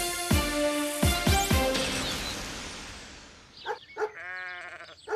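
Several sheep bleat loudly in quick succession at the start of a radio advert, the calls fading into a reverberant tail before a short burst of other sounds near the end.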